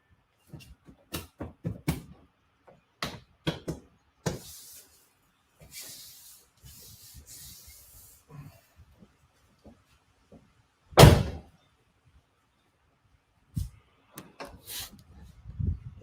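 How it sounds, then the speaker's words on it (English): A Tesla car door is shut in a workshop during car prep for single-stage painting, giving one loud, solid thud midway through. Scattered faint clicks, taps and handling noises surround it in otherwise quiet surroundings. "I want to close this Tesla door."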